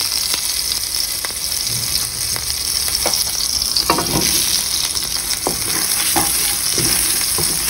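Two green chilies fry in hot oil in a home kitchen pan, a continuous loud sizzle broken by occasional scraping stirs and clicks, with no voices.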